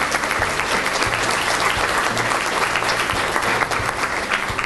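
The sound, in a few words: kids' applause at DARE ceremony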